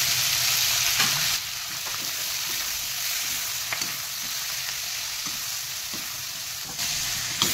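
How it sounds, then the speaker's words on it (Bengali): Vegetables with chopped tomato, turmeric and ginger sizzle steadily in a hot pan, a bright continuous frying hiss with occasional soft stirring knocks, no voices. "এই আমার সবজিগুলো ভাজা হয়ে গেছে"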